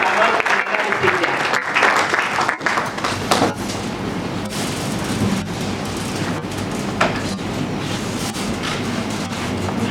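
Loud applause rises from a seminar audience in Kinshasa for the Sanofi team, a dense, rumbling wave of clapping that stays steady with some voices mixed in.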